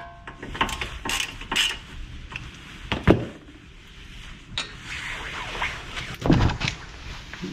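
Wrench loosening an 18 mm nut on the tie rod of a 2006 Toyota Camry, with scattered close metallic clicks, ratcheting and clanks at irregular intervals over a low workshop background.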